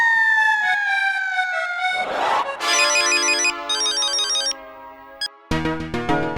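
Telephone ringtone in a Gokuldham housing society home, a loud electronic melody with repeated tonal phrases and shifting patterns, alone with no talk.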